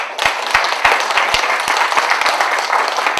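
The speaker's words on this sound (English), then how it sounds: "let's give them a round of applause" An audience gives a round of applause for Senior Center staff at a City of Cupertino event, a dense, steady burst of many hands clapping that carries on for a few seconds without talk.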